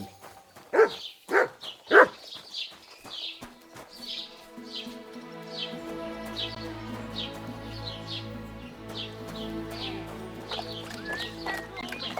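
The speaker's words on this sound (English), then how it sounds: "You silly doggy." A dog in the video game Kingdom Come: Deliverance II gives a few close, sharp barks, followed by softer sounds over a steady low ambient drone and soft clip-clop of hooves.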